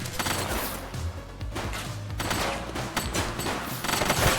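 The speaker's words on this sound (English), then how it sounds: "He's shooting!" Rapid bursts of gunfire ring out in the police video game The Precinct, a loud, dense volley of overlapping shots that continues steadily for several seconds with no voices.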